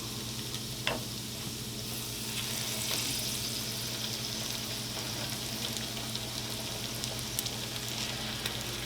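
Chicken pieces fry with garlic in a pan, producing a constant close sizzle with light stirring clatter and a brief clink near the start.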